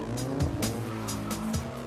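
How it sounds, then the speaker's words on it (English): Several cars doing tight donuts in a confined space at a drifting event, engines revving loudly with continuous overlapping tire squeal and skidding, no voices. "each competitor first had to prove that they could donut in a confined space"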